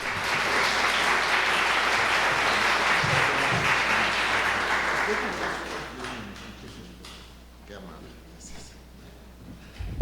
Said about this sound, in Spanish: Dejo entonces, por favor, aquí con un aplauso al doctor Manuel Fernández Guaste.